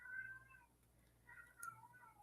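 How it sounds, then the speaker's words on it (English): A cat meows outdoors, two faint plaintive calls heard at a distance, separated by a short pause, with a low steady hum underneath and no talking. "Oh, that poor kitty's outside again."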